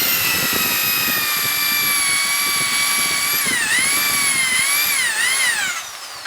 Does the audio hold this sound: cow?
no